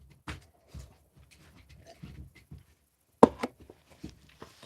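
A dog chewing on a bone nearby indoors: irregular soft gnawing and crunching clicks, scattered over several seconds, with one sharper, louder crunch midway through.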